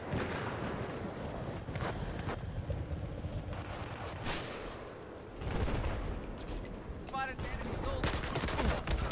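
Gunfire from the multiplayer video game Battlefield 4, a steady wash of distant rifle and artillery shots with occasional louder bursts, heard beneath someone talking.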